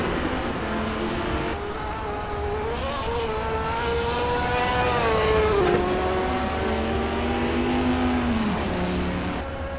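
Dodge Viper race car in Gran Turismo, engine note climbing and falling through the gears as the car races the Nordschleife, loud and continuous with other cars faintly alongside.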